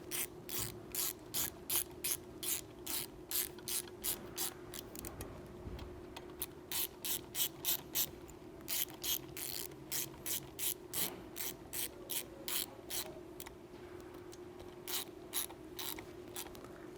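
Ratchet tightening bolts during an Audi turbo replacement, with a long run of rhythmic clicks close up and quiet, pausing briefly midway before the clicking resumes, with no talking.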